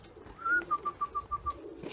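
A feral barn pigeon cooing on a roof, one drawn-out call followed by a rhythmic series of about six short coos, moderately near and clear over faint outdoor background.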